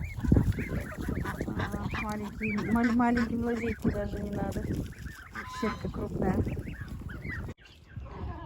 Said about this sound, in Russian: Гусята.